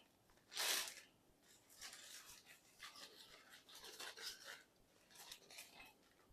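An aluminium Pip-Boy 3000 Mk V stand is lifted out of its packaging, giving a sharp crinkle at the start followed by soft rustling, scraping and handling noises close by, with no talking.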